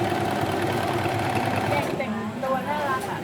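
A sewing machine runs steadily while stitching a long tuck in fabric, giving a fast, even mechanical chatter throughout, with a voice talking over it.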